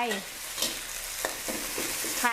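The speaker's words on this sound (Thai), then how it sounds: "ใช้ไฟอ่อนนะ ไฟอ่อนๆค่อยๆ ผัดพริกแกงให้มีความหอมก่อน" Southern Thai curry paste stir-fried in oil over low heat, giving a steady soft sizzle broken by scraping spatula strokes, close and moderately loud with no talking.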